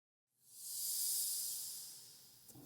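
Breathing from saxophonist Colin Stetson's score for the horror film Hereditary: one long breathy exhalation swells in after a brief silence, then fades, heard alone.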